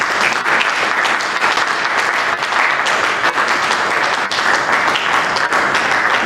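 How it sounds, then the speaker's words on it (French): Loud, sustained applause from an audience at an association meeting, with dense clapping that stays steady and even throughout and no break. "Je crois que vous pouvez acclamer pour cela."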